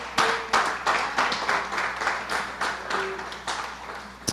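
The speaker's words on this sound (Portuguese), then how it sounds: "Será que você pode dar uma salva de palmas ao Senhor?" A church congregation clapping in praise during a service, scattered claps building into loose rhythmic applause at moderate level, with faint voices and a soft tone in the background.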